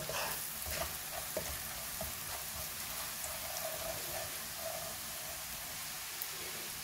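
Curry powders and spices frying in a pan for a prawn and butternut squash curry, a continuous crackling sizzle with occasional faint stirring taps, fairly quiet throughout.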